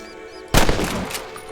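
Gunfire in the Western video game Red Dead Redemption: a sudden loud burst of shots breaks in after a quiet stretch, followed by a ragged spread of further cracks that trail off over the next second.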